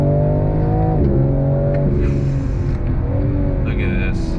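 A 2022 BMW M4 Competition sports car engine pulling hard on throttle, its loud, steady drone climbing in pitch through the gears, recorded from inside the cabin with a person talking over it.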